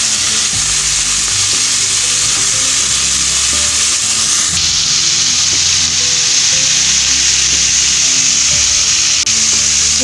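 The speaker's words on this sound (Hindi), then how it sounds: "इसको अच्छे से करते हैं मिक्स।" Vegetables fry loudly in a pan for beef patties while a spoon stirs them. The sizzle is dense and continuous, with scraping strokes of the spoon throughout and no voices.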